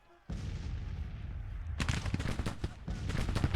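Civil War battle gunfire in Grand Tactician, a dense rolling fusillade of musket and artillery fire that starts abruptly and then swells into heavier crackling volleys, sounding distant to mid-range.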